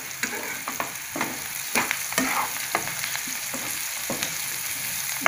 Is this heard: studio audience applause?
no